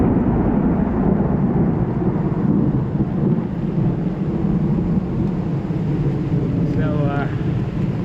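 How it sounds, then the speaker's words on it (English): A deep, continuous rolling rumble of thunder in the woods on the Appalachian Trail dominates, with rain and wind noise blending underneath. "lightning is crashing everywhere around us"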